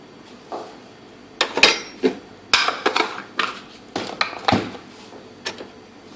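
A metal spoon clinks against the sides of a cup while stirring green tea mix with coffee creamer, giving irregular bright taps and scrapes in short bursts, close by and with no talk over them.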